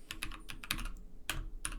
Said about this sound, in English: So I'm typing in teardrop.